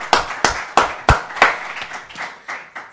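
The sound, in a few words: audience applause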